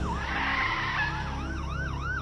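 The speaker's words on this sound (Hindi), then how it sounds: "लेकिन तभी पीछे से पुलिस की गाड़ी सायरन बजाते हुए आती है" A police car siren wails, sweeping up and down over a rumbling engine, loud and close, the pitch swooping in quick repeated arcs toward the end.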